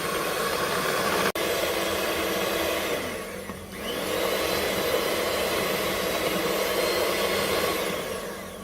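An electric mixer blends a homemade ice cream mixture at close range, giving a steady loud whirring drone that holds for the whole stretch, with one sharp click near the start and a brief dip in pitch midway.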